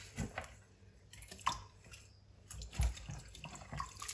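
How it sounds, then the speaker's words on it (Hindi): White radishes (mooli) washed in water in a home kitchen, with quiet splashing and faint dripping sounds, a few soft sloshes and handling noises, fairly low in level and with no talking. "अब यहाँ पे इनको धोएंगे मूलियों को।"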